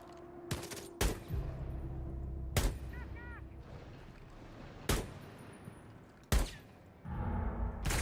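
Sharp gunshots in Rainbow Six Siege ring out one by one at irregular gaps, loud and nearby, over a low rumbling game backdrop with a voice briefly heard.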